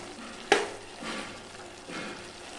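Brinjal masala for oil-fried brinjal poriyal being stirred in a pan, with one sharp scrape of the spoon near the start followed by softer, intermittent sizzling and stirring passes. The sounds are close and there is no talk.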